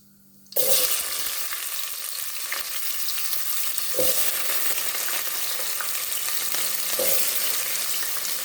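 Onions dropped into a hot pan with bay leaves, a sudden burst of sizzling that settles into a steady, loud fry with a few stirring scrapes.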